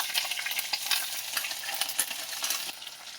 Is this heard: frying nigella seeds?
yes